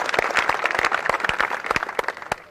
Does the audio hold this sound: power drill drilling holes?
no